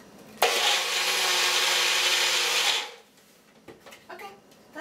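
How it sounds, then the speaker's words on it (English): A blender runs loud and steady for about two and a half seconds, quickly smoothing a chocolate mixture with cacao chunks, then cuts off, leaving faint handling noises. "Just a really quick blend, just to get out, smooth out any of the cacao chunks."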